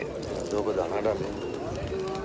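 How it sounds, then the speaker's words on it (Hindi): Pigeons being fed grain at the shrine of Hazrat Bahauddin Zakariya in Multan coo softly in low, rolling bursts against a steady murmur of background noise and nearby voices. "ये बहुत ज़्यादा कबूतर हैं इधर, ये देखें दाना डालेंगे।"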